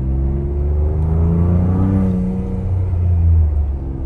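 A Ford Bronco with a 2.7 engine and a homemade blow-off valve rumbles and revs up and down, heard from inside at a steady, fairly loud level with a rising and falling engine tone.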